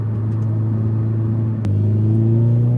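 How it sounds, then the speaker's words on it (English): A Toyota GT86 engine under throttle accelerating, a loud close steady drone that drops briefly as it shifts into second gear, then picks up again. "On the throttle, getting into second gear, it just, I mean, look, it's not the fastest, but it goes."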